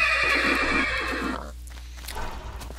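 A horse in the video game Minecraft gives a loud, drawn-out whinny that trails off, followed by a few faint hoof-like clops.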